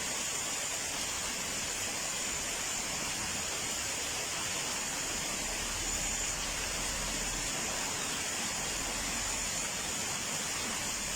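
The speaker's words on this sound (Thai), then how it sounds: "ฝนตกดูกันเลย" Steady, dense rain hiss in Chiang Mai, even and unbroken throughout, with no voices.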